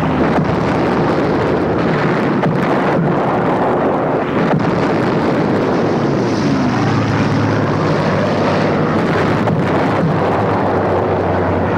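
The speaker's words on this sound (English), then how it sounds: "400 planes begin a round-the-clock bombing." WWII bomber aircraft in a massed round-the-clock bombing raid, a loud continuous propeller engine drone with wind rush, steady and dense throughout with no talk.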